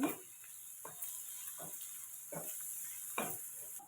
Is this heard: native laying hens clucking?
no